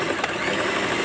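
A portable sewing machine being oiled runs with a rough, steady mechanical whir, loud and close, continuous for the whole moment with no voices.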